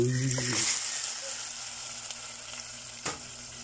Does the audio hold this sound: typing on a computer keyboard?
no